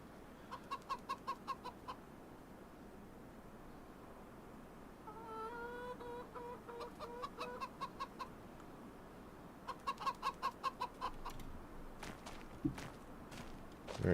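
Chickens cluck in a farm setting in Farming Simulator 25, with bursts of rapid pecking clucks and a few drawn-out calls over steady low background hum. The bursts come and go over about fourteen seconds. No one speaks.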